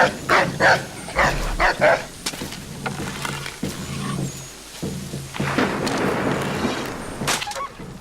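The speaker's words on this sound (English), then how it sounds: "Guard dogs." Guard dogs bark in the video game Assassin's Creed 3, with repeated sharp barks and yelps that cluster early, then rough growling and whimpering over game ambience, plus brief distant voices.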